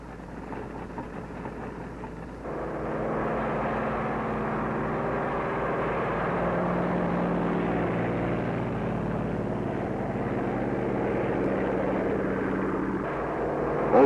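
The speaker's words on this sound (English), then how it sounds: "Also taking off from the carrier are control planes that will guide the radio-controlled drone boats" Carrier aircraft engines drone steadily for a long stretch, swelling as planes power up and take off from an aircraft carrier, with a constant roaring hum throughout.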